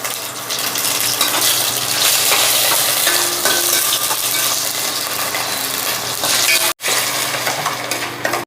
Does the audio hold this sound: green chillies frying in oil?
yes